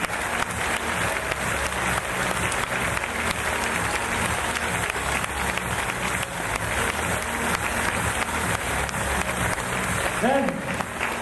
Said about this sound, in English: So a big round of applause for Enrique